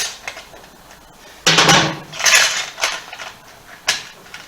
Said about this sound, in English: So just basically take the 3 screws out.